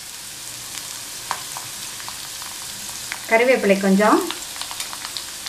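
Chopped onion and curry leaves sauté in a pan for vendakkai peanut curry, with a loud burst of sizzling and frying as the leaves hit the hot oil, amid quiet clinks and a soft voice.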